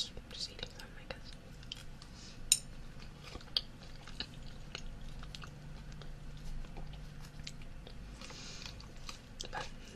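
Close, quiet chewing and soft crunching of veggie noodles and spring rolls, with small wet mouth sounds and occasional sharper bites, under a whispered voice talking throughout.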